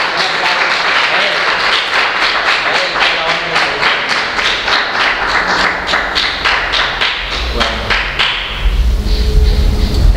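A church congregation at a Messianic service applauds, with dense, steady, loud clapping throughout that swells slightly near the end.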